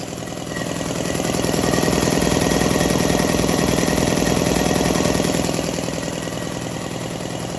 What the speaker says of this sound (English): air compressor works